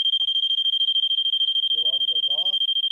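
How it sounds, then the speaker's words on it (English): Battery-powered pool alarm sounding right after its battery is connected: a loud, continuous high-pitched electronic tone held steadily throughout, with someone speaking briefly near the end. "the alarm goes off"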